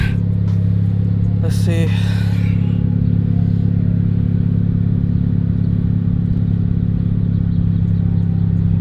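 Steady low idle of a 2017 Honda Civic Type R engine after a PRL intercooler install, a constant close rumble throughout, with a brief whoosh and someone speaking briefly near the start.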